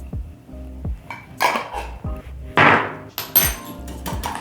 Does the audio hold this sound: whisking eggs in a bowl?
yes